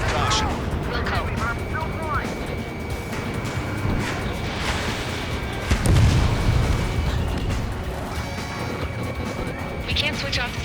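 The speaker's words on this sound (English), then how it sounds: "How many got caught in that explosion?" Heavy explosions from the Ace Combat 7 aerial combat game, a dense rumbling barrage with a stronger blast near the middle, mixed with game radio chatter and continuous engine noise throughout.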